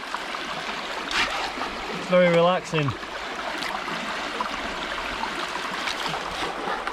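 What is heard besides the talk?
water running through a gold panning sluice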